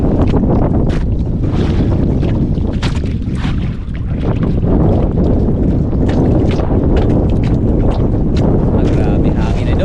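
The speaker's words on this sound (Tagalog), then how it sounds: "Grabe hangin idol." Strong northeast monsoon wind roars and buffets the microphone on open water, gusting loudly and continuously throughout, with no clear speech.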